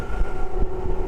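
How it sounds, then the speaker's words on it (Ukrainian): A steady rumbling drone with a sustained tone and faint rhythmic clacks as a train rolls past nearby in the Carpathian mountains. "ті поїзди, які я завжди знімаю, от вони сюди і сунуть"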